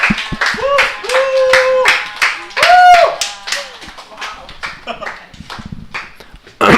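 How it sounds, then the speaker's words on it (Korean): Members of a church gathering clap in sharp, rhythmic bursts close by, mixed with vocal exclamations and talking over the top. "우리 박수는 건강이 너무 좋은데."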